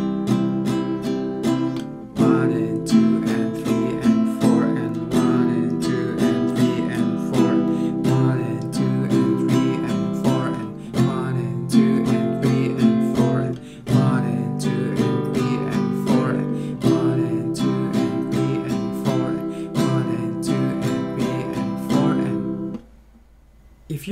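Acoustic guitar strummed at full song tempo in the strumming pattern for a song, steady rhythmic chords with crisp string attacks, close and alone for about twenty seconds before stopping.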